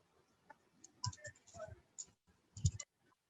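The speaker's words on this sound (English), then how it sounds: "I was typing" Typing on a computer keyboard comes through as a few short, irregular clusters of quiet clicks with brief pauses between them, close and without speech.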